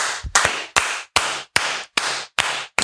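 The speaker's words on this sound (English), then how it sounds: "Let's clap along with me." Eight sharp, evenly spaced handclaps ring out in a steady beat, loud and close, with no talking over them.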